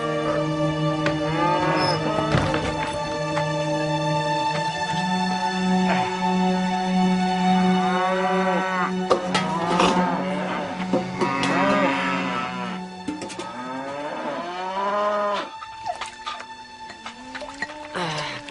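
Cattle being herded moo loudly and repeatedly, several long drawn-out calls overlapping close by, with a faint dripping or liquid sound in the background.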